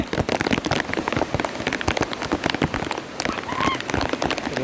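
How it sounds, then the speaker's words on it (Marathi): Rain pattering steadily on a surface at a hilltop fort, dense irregular drops close by, with a brief faint honk-like call in the background. "आज पावसानं पण मस्त हजेरी लावल्या"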